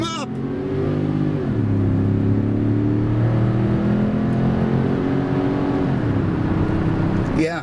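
A Cadillac Seville with a 4.5 or 4.9 V8 revs hard with tires spinning, a loud sustained engine roar that rises and falls, close up and steady for most of the stretch.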